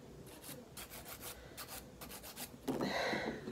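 Press-on nails being filed by hand with a nail file, no electric machine, making quick repeated rasping strokes in a steady back-and-forth rhythm, close and soft, ending in a brief louder scrape.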